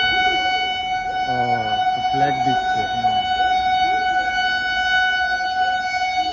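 A Rajdhani Express train horn sounds as a long, steady, loud tone at a railway station, with people talking briefly over it.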